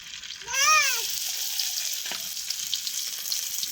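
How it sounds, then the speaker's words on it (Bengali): Fish frying in a pan gives a steady, close sizzle that stays loud throughout, with a brief tonal squeak near the start. "এখন মাছটা বাইজে নিব আমরা"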